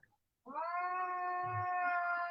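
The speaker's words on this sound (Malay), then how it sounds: "Kucing." A cat lets out one long, loud, drawn-out meow that rises into a sustained caterwaul, close to the microphone, with a short faint sound just before it and no talking.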